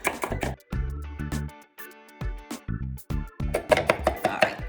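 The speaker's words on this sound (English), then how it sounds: "I like using my chopping bowl in my mezzaluna" A mezzaluna chops nuts in a wooden chopping bowl, producing a series of sharp, close rocking knocks in irregular clusters, with brief pauses between strokes.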